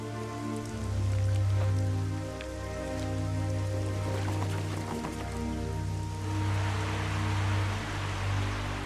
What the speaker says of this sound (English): The rain further upstream turns the river cold.